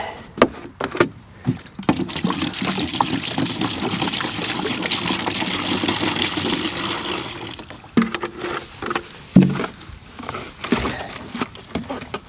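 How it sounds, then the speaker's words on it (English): Water drained from a Sea-Doo GTX DI bilge pump gushes into a bucket in one continuous pour of about six seconds, framed by clunks and handling knocks before and after. "Dump the bilge pump in a bucket."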